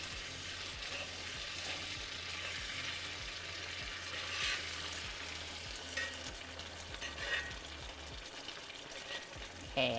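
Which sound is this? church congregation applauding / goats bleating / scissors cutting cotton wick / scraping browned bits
scraping browned bits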